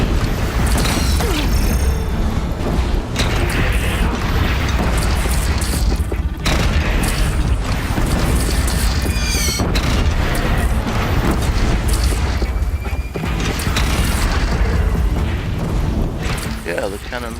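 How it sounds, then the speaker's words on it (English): Cannons firing during robot-dinosaur combat in the video game Horizon Zero Dawn, heavy booms and mechanical clanks repeating over a dense, loud game soundscape throughout. "Yeah, the cannons work, okay."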